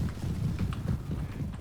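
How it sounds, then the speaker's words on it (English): Cavalry hooves pounding in the video game Total War: Warhammer, a dense low rumble of many horses charging, steady and close with uneven rhythmic thuds and no talk. "I introduce you henceforth to several hundred kilograms of angry horse"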